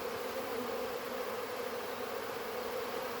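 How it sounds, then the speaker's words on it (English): A steady, dense drone of many Carniolan honeybees buzzing in the air, continuous and even throughout, with no voices. "There were bees all in the air."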